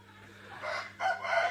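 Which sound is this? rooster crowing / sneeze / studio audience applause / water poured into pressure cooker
rooster crowing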